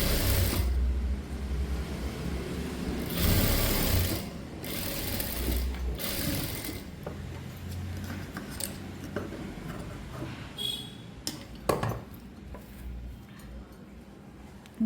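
A sewing machine stitches a blouse in loud bursts of running, then quieter stretches broken by sharp clicks and ticks of the mechanism, all close up with no talking.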